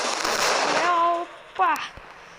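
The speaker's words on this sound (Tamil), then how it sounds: "இது எல்லாமே வெடிச்சுமே அங்கே ஒன்று மட்டும் தனியாக பர்ஃபார்மன்ஸ் கொடுக்குது பாருங்களேன்" Fireworks bursting and popping in a driving video game, crackling bangs in the first half, then tonal whistling and a sharp second burst with a brief pop near the end.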